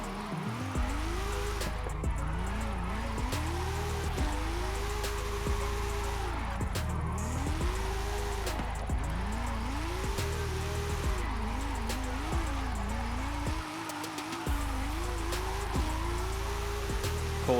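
A Nissan R34 GTR engine drifting in Forza Horizon 5 revs up and down in repeated swells, with hissing tyre noise throughout and no pause.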